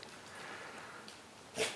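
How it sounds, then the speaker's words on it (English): A small dog gives a single short, sharp snort near the end, close and clear against faint outdoor background hiss. "Little Figsy snorts"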